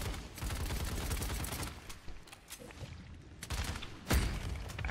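Grenade blast in the online shooter Paladins amid a dense spray of rapid gunfire, with a sharp, loud burst near the end cutting through the continuous battle noise.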